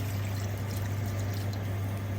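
Water pours into a pot for a large batch of beef soup broth, making a steady, continuous splashing rush that stays even for the whole moment. A low mechanical hum sits underneath, and no one talks.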